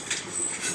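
A train in the video game Train Simulator Bangladesh rolls along with a soft, steady rumble and faint high squealing, heard briefly and alone.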